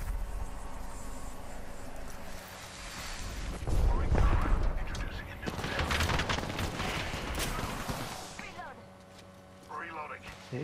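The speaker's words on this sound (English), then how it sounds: "Oh my god, they're spamming nades." Grenades go off repeatedly in Apex Legends Shadow Royale on the Olympus map, heavy booming blasts and rumbling debris that swell and fade over several seconds, with voices talking over the gunfire.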